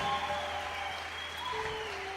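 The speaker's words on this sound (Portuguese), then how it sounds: "vamos aplaudir ao Senhor pela vida da Marcela" Church congregation applauding during a service, a steady even wash of clapping across the whole stretch with faint tonal hum underneath and no clear voices.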